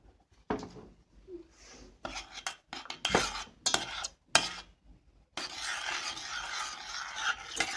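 Dark bitter chocolate is stirred into a hot sauce to melt it for chocolate balls made from leftover cake. A utensil rasps and scrapes against the pot in bursts, ending in a steady, louder stretch of stirring, close by with no voices.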